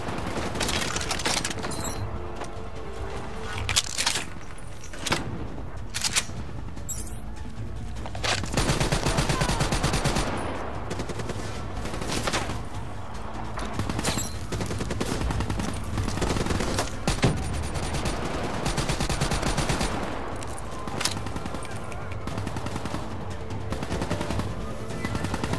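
Gunfire in Call of Duty Black Ops III, sustained machine-gun bursts and rapid shots rattling almost nonstop, loud and close, with occasional heavier booms and brief pauses between volleys.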